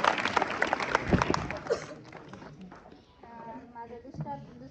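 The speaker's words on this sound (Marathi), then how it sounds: "टाळ्या." An audience of students and villagers applauds during an interview with a village sarpanch, a burst of close, crisp clapping that thins out after two seconds as voices take over.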